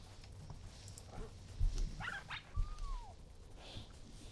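Dogs bark in the video game Shelter, a few quick, faint yips close together near the middle, set against a low, soft game backdrop with no talk.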